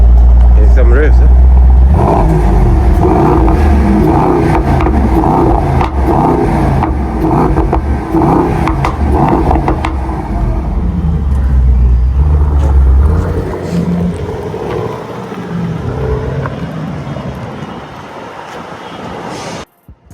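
A Mercedes-AMG GT63s four-door coupe engine revs loudly and close by with deep, surging bursts for about thirteen seconds, then fades into quieter running; a voice speaks briefly.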